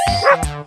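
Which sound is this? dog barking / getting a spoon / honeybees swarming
dog barking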